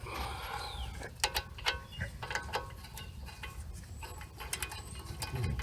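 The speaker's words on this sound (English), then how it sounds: "I'm going to go ahead and finish unbolting these 4 bolts or 3 bolts that are left in here" Bolts being unbolted from the front wheel bearing of a 2012 VW Passat SE V6 with a ratchet, giving close, rapid clicking bursts and metallic ticks over a low shop hum, with no talking.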